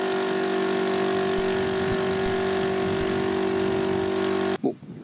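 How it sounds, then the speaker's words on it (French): Parkside and Scheppach air compressors, powered from a large solar power station, run with a loud, steady mechanical drone and hum that holds for several seconds, then cuts off abruptly near the end. "on va démarrer les deux compresseurs à 6 bar"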